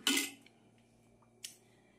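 A metal lid settling onto a cooking pot gives a sharp close clank, then a lighter clink about a second later, over a faint steady kitchen hum.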